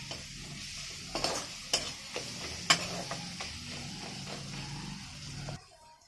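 Ginger and garlic frying in a pan, a soft, continuous sizzle with a series of sharp spatula taps and stirring scrapes, fading out at the end.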